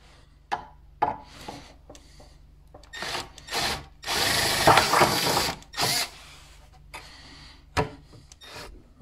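A power drill widens plug holes in a brick wall to refit a shelf, running in short bursts separated by pauses, with one longer grinding stretch in the middle.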